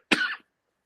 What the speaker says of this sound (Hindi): ये खांसी मुझे सच बोलने के ऊपर आई है